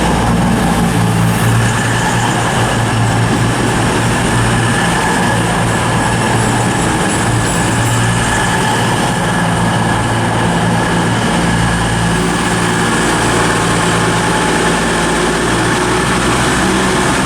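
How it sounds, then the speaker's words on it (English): A CrossCountry Voyager train to Southampton Central pulls out of Reading station with a loud, continuous diesel engine drone and rail rumble that holds steady throughout, close and without voices. "Departing is 14:18 cross-country service to Southampton Central."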